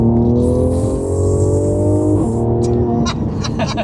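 A Mercedes C43 engine revs loud and close, its harmonic drone sliding down as gears drop, with sharp crackles and pops near the end and some voices in the background.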